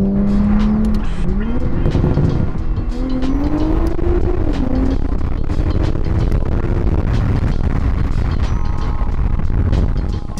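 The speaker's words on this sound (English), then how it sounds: "it feels so good to drive the car again" A Toyota Supra fitted with a Voltex Type 10 swan-neck GT wing is driven, its engine holding a steady, loud drone with shifting pitch throughout, while a voice talks over it.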